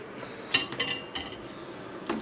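An eggplant dish slid into an air fryer oven, giving a few brief metallic clinks and knocks of pan against rack over a quiet kitchen hum.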